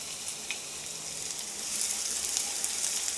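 Fennel seeds sizzle and crackle in hot oil for a paneer masala, a steady close frying hiss with small pops that grows slightly louder, and no talking.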